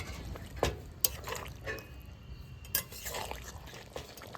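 Cornflour slurry is poured into chilli chicken paneer and stirred in a pan. There are a few soft liquid splashes and drips, then scraping stir strokes, all close and low in level, with no speech.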